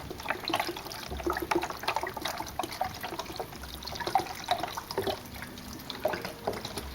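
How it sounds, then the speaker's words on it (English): Beef broth pours into a crock pot holding potatoes and other ingredients, a steady close liquid glug and trickle with small splashes throughout. "Then I just start pouring in the beef broth."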